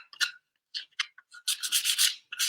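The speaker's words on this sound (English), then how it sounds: "A close-up of someone sanding a piece of pallet wood" Sandpaper rubs over a piece of rough pallet wood in short, close, raspy strokes, first a few separate passes and then a quicker run of back-and-forth scrubbing, with no talking.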